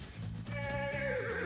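A horse in the JoJo Steel Ball Run anime gives a short, fairly quiet whinny that rises and wavers, heard over a low, steady background.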